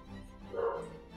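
A dog gives a single short, moderately loud bark over a quiet, faintly humming background.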